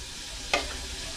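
Food sizzles steadily in a hot pan, with a brief louder crackle and stir midway.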